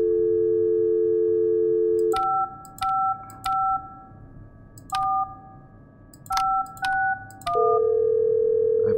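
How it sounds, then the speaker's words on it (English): In a horror video game about musical instruments, a phone line gives a steady dial tone, then a run of short touch-tone beeps as a number is keyed in, and finally a long tone. No voices are heard. "There's the phone."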